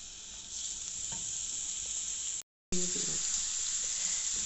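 Finely chopped onions going into hot ghee in a karahi, a continuous bright hiss of frying with a few soft clinks, close and steady, broken by a brief silent gap.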